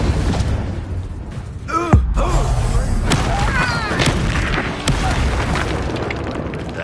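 Confringo spell blasts and other combat spells in the Hogwarts Legacy video game: repeated booming bursts and pops in a busy fight, with voices shouting over the explosions.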